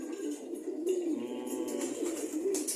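Belgian bloodline pigeons coo steadily up close, a low rolling warble repeating through the clip with no voices over it.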